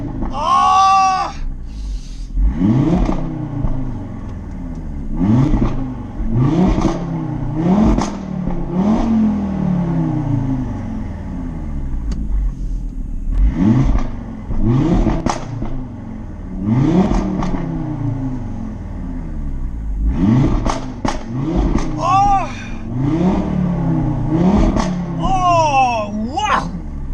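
Audi RS3 8V with stage 2 upgrades, its exhaust revved again and again in loud rising swells with crackles between them, while a person talks excitedly over it.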